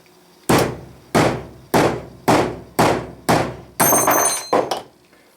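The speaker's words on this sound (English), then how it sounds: "using the anvil here and a copper hammer, I may be delusional, but I'm hoping that one sharp rap will do it" A copper hammer raps a Jacobs chuck arbor from an Atlas 618 lathe against an anvil, landing about eight sharp, ringing blows at a steady pace, loud and close, with no talking.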